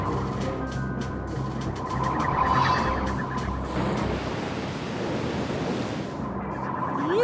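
Animated storm at sea, a continuous loud wash of surf and rushing wind noise with swelling waves rising and falling throughout, no voices.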